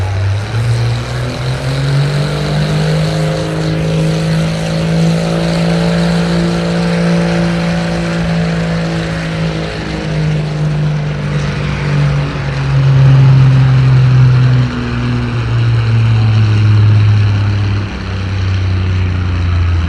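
A Minneapolis Moline pulling tractor roars loudly and continuously at a tractor pull, its engine note sweeping slowly through a long run with steady, close, heavy drone throughout.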